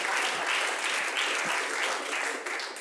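A comedy show audience gives a short, loud burst of applause, with dense, close clapping that runs throughout and eases slightly at the end.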